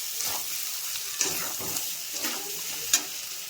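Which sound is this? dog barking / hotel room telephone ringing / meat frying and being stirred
meat frying and being stirred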